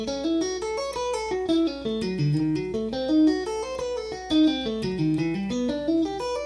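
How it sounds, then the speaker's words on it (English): An electric guitar plays three arpeggios in sequence, single notes rising and falling in a quick, even rhythm, clear and close, with no talk. "So now all 3 of those arpeggios together sound like this."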